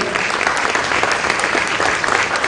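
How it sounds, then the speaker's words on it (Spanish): A strong burst of audience applause for a woman being introduced at a public event in Peru, loud and dense continuous clapping throughout. "A ver, un fuerte aplauso para Nelsa"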